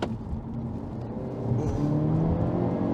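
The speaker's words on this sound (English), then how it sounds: "So we're just cruising at 50 kilometers an hour, and then I'm going to floor it" Hyundai Elantra N hot hatch with a dual-clutch gearbox floored from 50 km/h in fifth gear, a steady close engine drone that swells into a stronger, louder pull partway through, with no talk.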